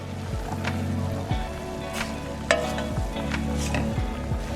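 Onions and carrots sauté in a pan with a steady close sizzle, broken by periodic scraping stirs and a few sharper clicks of a utensil against the pan.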